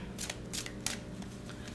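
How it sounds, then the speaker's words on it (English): A deck of reading cards being shuffled by hand, a quiet run of soft papery riffles and taps close to the listener. "I'm going to keep shuffling here for another sec."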